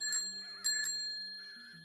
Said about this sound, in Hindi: धीरे धीरे घंटी बजा रहा